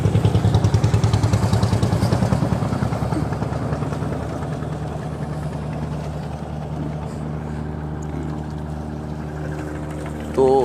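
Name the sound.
launches and steamers at Sadarghat river launch terminal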